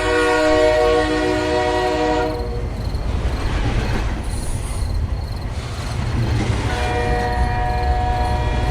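A train pulling away, used as a sound effect in a Bengali horror audio story: a loud sustained horn opens over heavy rumbling, then a steady rolling roar, and the horn sounds again near the end.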